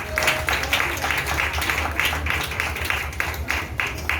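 Congregation at a wedding ceremony applauding together, a steady dense wash of clapping with rhythmic pulses, fairly loud and continuous throughout.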